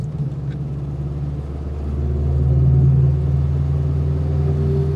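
A Saab 96 with a V4 engine drives along, its low, steady engine hum close and continuous and swelling slightly midway through.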